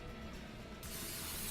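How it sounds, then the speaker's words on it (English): Canola oil cooking spray misted onto taco shells, a steady close hiss that swells louder halfway through and holds for a second or so, with no talking. "You just start by taking a canola oil spray and lightly"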